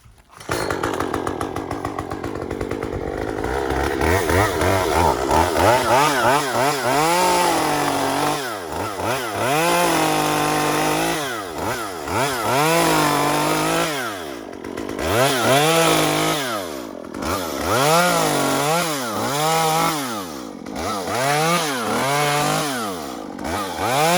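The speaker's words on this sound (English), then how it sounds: "You gotta start a chainsaw here and take the knots off of it." A chainsaw roars loudly and continuously, its engine pitch rising and falling repeatedly as it revs and cuts knots off a log for a cabin wall.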